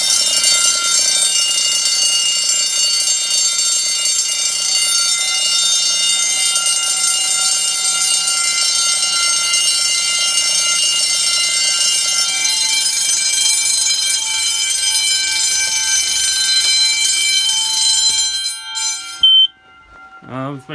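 A 10-inch fire alarm bell rings loudly and continuously, then cuts off near the end, leaving a few brief scraps of sound.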